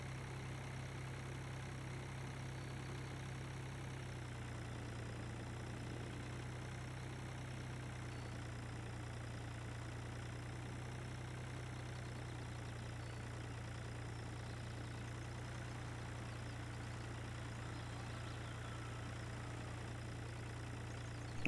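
A small tractor engine idles steadily in Farming Simulator 2013, a constant low drone with a hum that holds unchanged throughout, with no talk over it.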